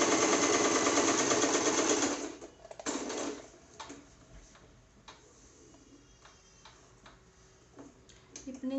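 A Singer Promise sewing machine running normal straight stitching, a loud steady whirring rattle for about two seconds, a brief second burst, then quieter ticks and clicks with faint low hum.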